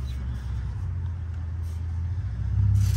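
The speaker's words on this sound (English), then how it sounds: "Sounds like a Subaru. It's a Mercedes?" A Mercedes passes nearby, its engine rumble holding steady and then swelling louder toward the end.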